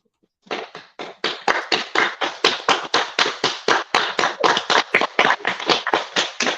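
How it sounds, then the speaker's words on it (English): Live audience applause with real hands clapping at a jazz show, a steady, loud burst of claps that starts suddenly and keeps going with a quick, even rhythm and no voices. "That's real claps, people."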